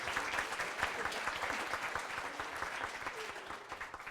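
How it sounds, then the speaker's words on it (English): An audience at a debate event applauds a speaker, a dense continuous patter of many hands clapping, steady and fairly distant-sounding at a low level, with no talk over it. "Round of applause for Xiaolong."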